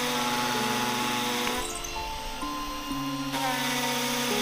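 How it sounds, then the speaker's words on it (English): Makita drill fitted with a 6mm Bosch blue masonry bit boring into a masonry wall, a loud continuous whining motor with shifting pitch steps as the bit bites, heard close with no talk. "I'm using my Makita drill with a Bosch blue masonry bit, 6mm, to drill the main holes in the masonry wall."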